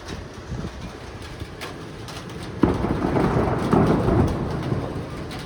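Rain falls during an unexpected hot-weather shower, and a loud thunderclap breaks in midway, its rumble rolling on over the steady downpour; no one speaks.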